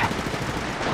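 Gunfire in the mobile battle-royale shooter Apex Legends Mobile: a short, loud, continuous burst of rapid automatic shots, close and alone with no talking.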